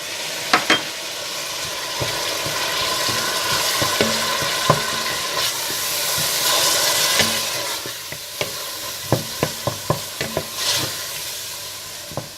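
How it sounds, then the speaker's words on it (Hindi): Tomatoes frying with coriander powder and salt for darbari dal, a loud steady sizzle with repeated sharp taps and scrapes of a spoon against the pan, a quick cluster of clacks near the end, no voices. "इसके बाद इसमें टमाटर, धनिया पाउडर और नमक डालकर भून लें।"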